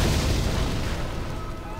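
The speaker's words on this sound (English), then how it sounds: "It's an explosion." Explosion in the video game Torchlight II, a loud deep booming blast with a rumbling tail that fades over about two seconds.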